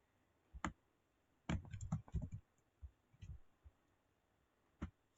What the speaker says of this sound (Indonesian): Soalnya aku ngetik,